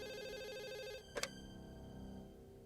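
A telephone rings in a home with a continuous electronic trill that breaks off sharply after about a second, followed by a brief clatter as the receiver is picked up.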